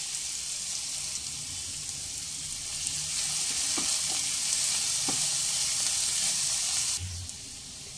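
Chopped onion and two green chillies fry with whole cumin in a tablespoon of white oil, a loud, hissing sizzle up close with a couple of spatula taps, cutting to a quieter sizzle near the end.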